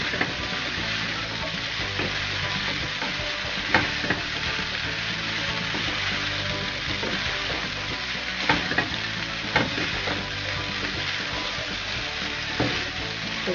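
Green chili and bell pepper are stirred into chicken pasta in a hot pan, giving a steady loud sizzle broken by occasional scraping spoon strokes, with no voices.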